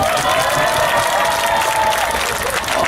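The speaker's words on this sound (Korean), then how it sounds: "다시 한번 큰 박수 부탁드립니다." Crowd applause with some cheering at an outdoor student rally and cultural festival in a city square, right after a song; dense, steady clapping fills the whole stretch at a loud, even level.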